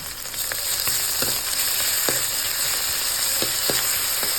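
Ginger garlic paste frying in oil for a sardine curry, a close, constant sizzle with occasional sharp pops and stirring scrapes throughout.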